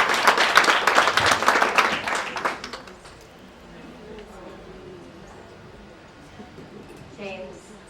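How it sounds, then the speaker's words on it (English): An audience at an awards ceremony breaks into clapping for an honoree, a burst of applause that fades within a few seconds, followed by quieter room sound and faint voices. "A big round of applause for Audrey."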